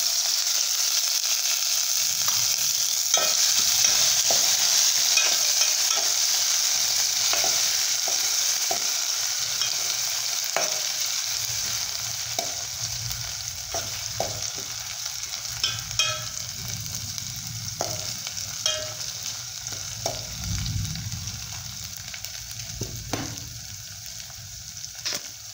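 Cumin, mustard seeds and green chilli thecha sizzle steadily in hot oil for dill leaf dry bhaji, a continuous close frying hiss with scattered crackles and stirring clicks, gradually easing in intensity.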